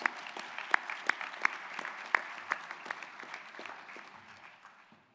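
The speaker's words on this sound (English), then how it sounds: "Please give him a warm welcome and a round of applause." An audience at an evening talk about Social Security gives a round of applause for a guest author, scattered sharp claps that thin out and fade away over a few seconds.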